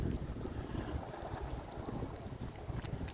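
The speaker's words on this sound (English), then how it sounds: "The wind's a little on the chilly side." Chilly outdoor wind gusts and rumbles steadily against the microphone, a loud, continuous blustery roar with no voices.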